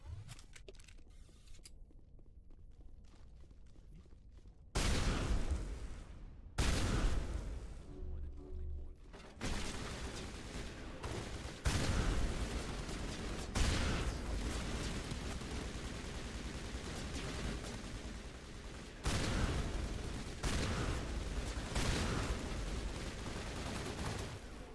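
Gunfire in the sci-fi game Mass Effect, sharp bursts of shots starting partway through and recurring in clusters, moderately loud, with quieter stretches between.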